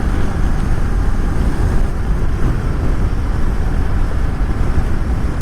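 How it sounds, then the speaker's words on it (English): A car cruises through newly built suburban streets of McKinney, Texas, heard as loud, steady rumbling road and wind noise from inside the moving vehicle, with no voices. "Right now we're driving through the suburbs of McKinney, Texas."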